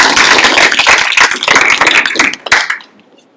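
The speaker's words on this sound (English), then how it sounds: "let's give a huge round of applause for Olivia Marcano." Applause from an audience at a youth apprenticeship signing day ceremony, a dense burst of many hands clapping that carries on for about two and a half seconds, then quickly fades out to near silence.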